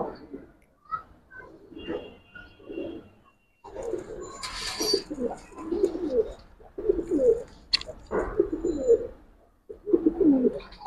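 Giribaz pigeons, silver bagha and green-necked birds for sale, coo in soft repeated throaty phrases close by, with rising and falling bursts and a brief flutter, while people talk quietly in the background.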